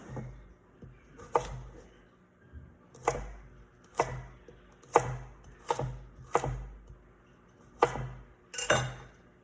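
Chef's knife chopping a carrot into chunky mirepoix pieces on a cutting board, with about nine firm, evenly spaced thunks at a deliberate pace and no talking.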